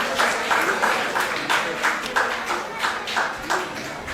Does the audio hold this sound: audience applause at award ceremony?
yes